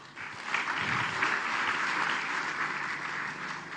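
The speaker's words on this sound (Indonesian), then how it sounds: "Untuk itu tepuk tangan kepada Diamond Network Support System." A sustained round of applause from the audience at an evening company event, dense steady clapping that is moderately distant and somewhat muffled, with no talking over it.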